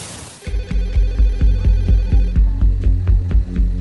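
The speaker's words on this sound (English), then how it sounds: "Across town, a late-night phone call wakes Dr. Bandari" An old-style telephone rings insistently, a rapid throbbing bell pulse repeating steadily and close by, with no voices.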